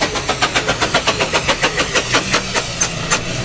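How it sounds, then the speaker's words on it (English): A Stanley Steamer steam-powered car runs close by with a quick, even chuffing pulse, loud and steady, with a hissing steam wash over it. "A Stanley Steamer car, which is incredible. When you hear it, it sounds like a teapot coming at you."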